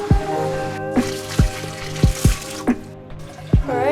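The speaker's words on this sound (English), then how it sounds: "While the next bucket's filling up," Water running from a tap into a bucket, a steady splashing stream with a few hollow knocks and clunks along the way.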